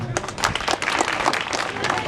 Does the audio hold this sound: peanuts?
no